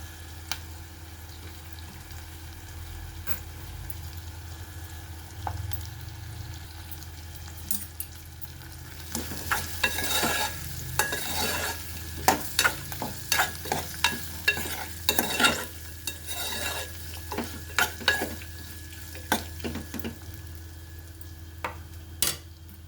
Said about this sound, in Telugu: వాక్కాయ ముక్కలు వేసేస్తున్నాను